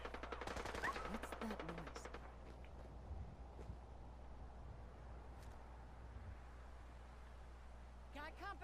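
Rapid laser gunfire from raiders with high-tech weapons in Fallout 4, a dense burst of repeated shots in the first two seconds, then quieter ambient game sound with a brief flurry near the end.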